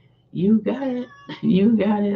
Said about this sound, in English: Oh, that's my daughter's cat.